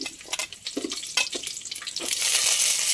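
Fenugreek, cumin and mustard seeds with chopped onions hitting hot oil, a close sizzle with stirring clinks that swells into a steady, bright frying hiss.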